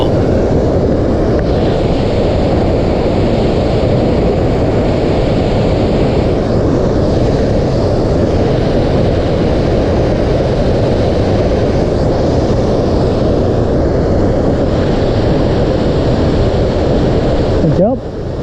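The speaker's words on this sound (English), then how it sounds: "in this canyon, you can hear the waterfall." Mooney Falls roars in the Havasupai canyon as a constant, loud broadband rush that holds steady throughout.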